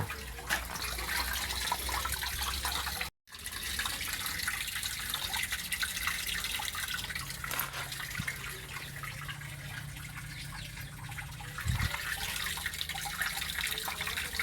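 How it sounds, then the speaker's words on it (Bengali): Water runs steadily as a fish tank is filled, a continuous splashing, trickling stream heard close up with one brief dropout, fairly quiet and without talk. "এখন আমি এটায় পানি ভরে নেব।"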